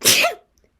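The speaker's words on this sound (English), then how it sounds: "I have to sneeze again." A single sharp human sneeze, close and loud, that bursts out and cuts off quickly into silence.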